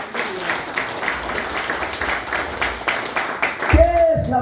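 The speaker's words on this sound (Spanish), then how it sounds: "Denle un fuerte aplauso a Jesucristo" Congregation clapping in a church, with rhythmic, pulsing claps that sound fairly close and moderately loud, ending in a louder burst of sound near the close.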